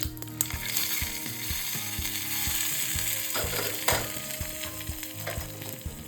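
Hot tadka poured into chutney for samosas gives a steady bright sizzle, joined by rhythmic clanking and scraping of utensils with a couple of sharp knocks, close and continuous with no talking.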